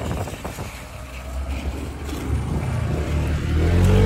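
A Honda Click 160cc scooter engine revving on test, a loud low motor drone under wind buffeting that builds steadily and climbs in pitch toward the end, with no talking.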